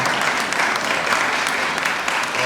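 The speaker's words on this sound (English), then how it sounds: "a round of applause?" Audience at a Philadelphia event for Namibia's president applauding the Commerce Department and the mayor's team, a steady, fairly loud wash of many hands clapping without pause or talk.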